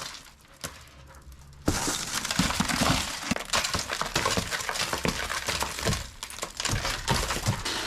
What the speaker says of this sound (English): Therefore, they were forced to break the glass